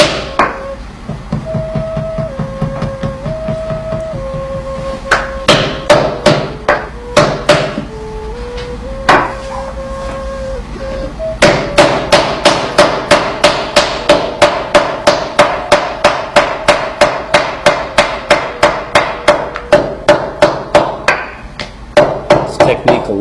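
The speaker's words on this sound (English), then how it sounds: "Very even slabs, using the mallet against that hardwood table." Wooden mallet pounding a clay slab on a hardwood table while making ZiSha teaware: sharp, loud, close thumps, sparse at first, then a long run of rapid, evenly spaced blows, with a sustained tonal background beneath.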